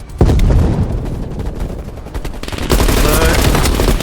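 Constant loud gunfire in Call of Duty Black Ops Cold War, in a dense barrage of rapid shots and bursts that stays close and intense throughout, picking up further near the end.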